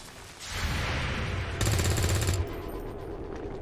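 Automatic gunfire in the video game XCOM 2, a loud sustained burst of rapid rattling shots that intensifies briefly before cutting off, leaving a lower rumble behind.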